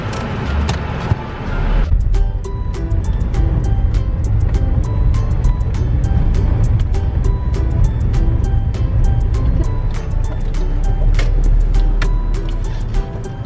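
A car cruising slowly along a crowded street on a Saturday while looking for parking gives off a continuous low road and engine rumble, with light clicks and knocks over it and no talking.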